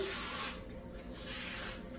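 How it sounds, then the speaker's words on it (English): Two bursts of spray lubricant onto 40-blade surgical clippers, each lasting about half a second, with a short pause between them, close and fairly loud. "We're going to lubricate them"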